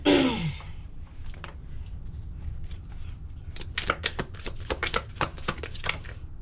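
Tarot cards are mixed by hand, giving a quick series of crisp, close slapping and riffling clicks after a brief breathy sound at the start.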